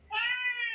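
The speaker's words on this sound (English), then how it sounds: "What kind of cat is that?" A toy phone plays an electronic cat meow, one strained, high, harmonic-rich call lasting under a second, close and fairly loud with no other sound.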